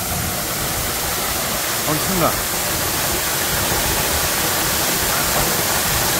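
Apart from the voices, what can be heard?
Suok waterfall falling onto rock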